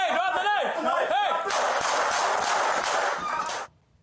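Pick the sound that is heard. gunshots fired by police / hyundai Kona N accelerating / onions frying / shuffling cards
gunshots fired by police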